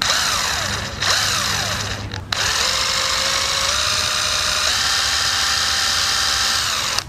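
A Makita TD110D cordless impact driver runs close up in several trigger pulls, its high whine rising and stepping in speed with brief stops between bursts and no speech.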